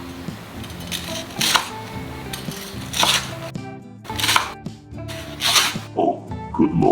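A knife crunches through a crispy fried pork katsu cutlet in a series of sharp, loud, close crackling slices, spaced irregularly with short pauses between cuts.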